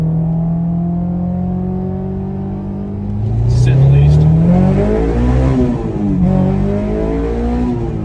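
An S2000 sports car engine revs and accelerates, its pitch sweeping upward through gear changes, loud and close, with someone speaking briefly over it.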